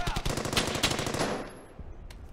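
Sustained machine gun fire in the World War II video game Hell's Highway, a fast burst of loud, rapid shots for over a second that breaks off into fading echoes and scattered distant gunfire.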